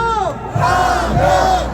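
Protest crowd letting out a loud, unified victory shout after a unanimous court ruling, a brief roaring cry of many voices rising and holding close to the microphone.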